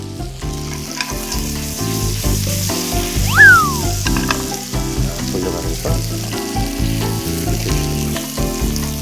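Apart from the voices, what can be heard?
stuffed squid pan-frying in butter and oil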